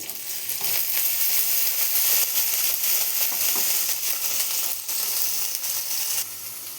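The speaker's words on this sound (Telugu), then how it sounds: "నేను ఇప్పుడు వీటిలోనే పన్నీర్ కూడా వేసి వేపుదామండి" Paneer fries in hot oil with curry leaves, producing a loud, continuous close-up sizzle with crackling spits and a few light stirring knocks.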